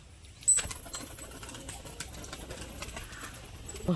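Tumbler pigeons at a bird sale: a burst of wing flapping followed by a steady, busy mix of soft rustling and low murmuring coos from the flock, close by and fairly constant throughout.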